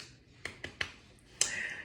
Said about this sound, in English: let me give myself a clap